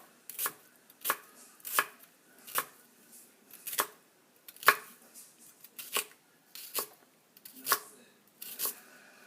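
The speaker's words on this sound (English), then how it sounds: "Let's cut up the onion." A knife chops an onion into slices on a cutting board, about a dozen crisp separate cuts at an unhurried, slightly uneven pace, close and clear against a quiet kitchen.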